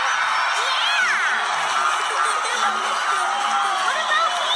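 A cartoon character, from the preschool show Ni Hao, Kai-lan, cheers loudly amid a bright, busy mix of crowd-like whoops and shouts with sliding cartoon effects, sustained throughout at a steady level.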